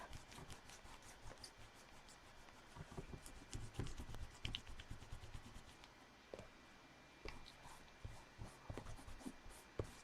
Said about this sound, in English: So you just have to be careful when you're erasing vigorously like this.